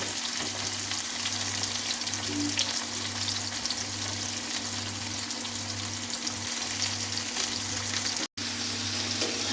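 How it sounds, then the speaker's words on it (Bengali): Onions frying in a pan for mutton keema, a steady dense sizzle throughout with a faint rhythmic low hum underneath and one brief dropout near the end. "পেঁয়াজটাকে ভালো করে লাল লাল করে ভেজে নিতে হবে"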